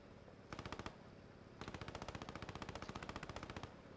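Tank-mounted machine gun in the video game Post Scriptum firing two bursts: a short rapid volley, a brief pause, then a longer sustained burst of sharp, evenly spaced shots, loud and close.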